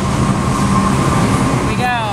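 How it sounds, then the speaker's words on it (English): A subway train pulls into Brooklyn Bridge station with a loud, steady rumble and metallic rail noise, and a rising whine appears near the end as it arrives. "So we're going to get on the train very soon."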